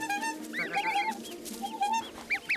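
Goose hatchlings peep in high, rapid, chirping calls while trailing their mother goose; the peeps overlap and keep up steadily with no talk.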